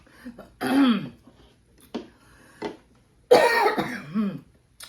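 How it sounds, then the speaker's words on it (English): A person coughs and clears their throat in a few harsh bursts separated by short pauses, close and loud. "Sorry, my coughing, still got it."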